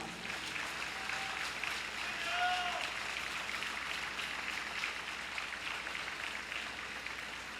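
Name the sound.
applause of encouragement at a teachers' rally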